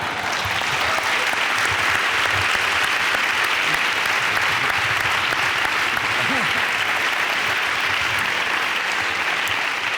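Steady applause from a conference audience at a health and nutrition congress in Madrid, loud and continuous clapping throughout with no pause.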